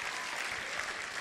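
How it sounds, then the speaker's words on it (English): Audience applause at a church-style gathering, dense steady clapping from a crowd filling the room, with no voices standing out. "You can clap for that"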